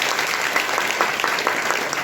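Congregation applauding a visiting pastor at the dedication of a new church building in Baraut, Uttar Pradesh: a steady, fairly dense patter of hand claps filling the whole moment, with no voices standing out.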